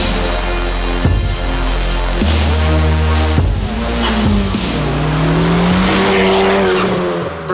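A new Honda Civic Type R with a 2.0-liter turbo engine runs hard on a dyno, loud and close, climbing through several rising pulls with sharp shifts between them before the revs drop away.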